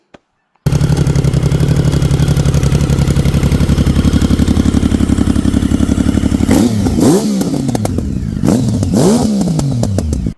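A 1050cc three-cylinder Yamaha Raptor ATV engine fires up after a brief click and idles with a fast, steady, loud pulse, then revs several times in sharp rising and falling bursts near the end.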